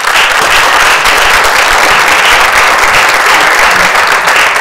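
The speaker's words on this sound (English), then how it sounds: "round of applause for Sarah" Sustained audience applause fills a panel discussion on immersive performance experiences, dense and steady clapping at close range throughout with no talk over it.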